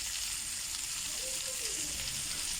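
Half an onion with bay leaves and a teaspoon of salt frying in a pot as the base for braised samp, a steady close sizzle throughout with a faint stir.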